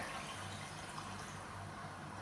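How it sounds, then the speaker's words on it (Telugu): A glass of water is poured for a home-cooked brinjal and chicken curry: a steady, quiet, continuous rush of liquid with no pauses and no talking. "తర్వాత ఒక గ్లాస్ వాటర్ పోసుకోండి"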